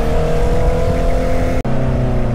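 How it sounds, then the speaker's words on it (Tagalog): Steady engine drone from a Honda CBR650R motorcycle on the road, loud and continuous with a brief dropout partway through, recorded from the rider's position. "Talagang dinadama ko na lang yung makina ng CBR natin."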